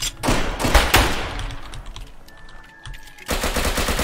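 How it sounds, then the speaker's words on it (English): Enemy gunfire in South London 2: loud, rapid bursts of automatic shots at the start, a brief lull with a thin tone, then another dense burst of fire at the end. "She shoots at me."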